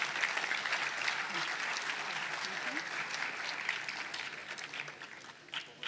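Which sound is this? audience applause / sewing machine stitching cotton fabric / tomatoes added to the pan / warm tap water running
audience applause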